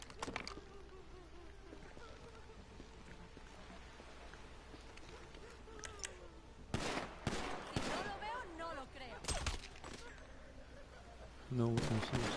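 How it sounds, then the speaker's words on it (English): Gunfire in the video game GTA: many rapid shots and bursts crackle at low level throughout, with heavier volleys growing denser toward the end. "Sounds like a lot of guns in here."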